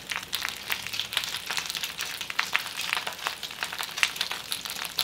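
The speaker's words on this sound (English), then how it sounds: "I'm just sauteing it." Kale sautéing in a pan with a continuous close, soft sizzle and scattered crackles throughout, with no talking.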